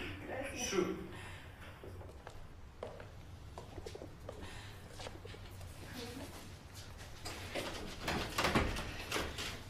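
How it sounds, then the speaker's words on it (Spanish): Pigeons coo and flutter in an abandoned building, soft and close, while people whisper and talk over them with faint shuffling and creaks. "son palomas"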